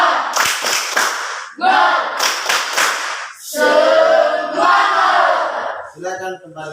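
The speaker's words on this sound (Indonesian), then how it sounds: "kita kasih tepuk semangat dari yang mewakili yang berkelompok ini" A group gives a 'tepuk semangat' spirit chant in a teacher-training class session, with bursts of rhythmic hand claps alternating with loud unison chanting voices, close and energetic throughout.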